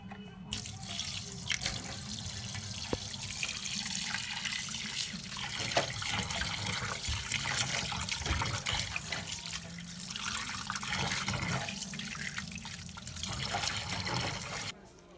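Chicken pieces for a roast are washed under a running kitchen tap, a steady full rush of water splashing into the sink throughout, close and fairly loud with small trickles and drips.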